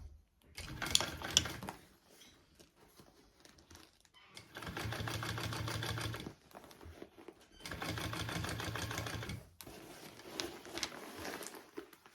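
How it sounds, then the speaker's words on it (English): A sewing machine top-stitches along the upper edge of a vinyl bag, running in three steady buzzing bursts of a few seconds each, separated by quiet pauses and light handling sounds, close and clear. "I'm just top stitching along this top part of the bag"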